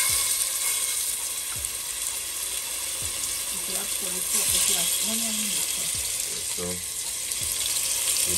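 Pork dropped into two tablespoons of hot oil for Jamaican brown stew pork sizzles steadily at close range, with clanks of a spoon or tongs against the pan.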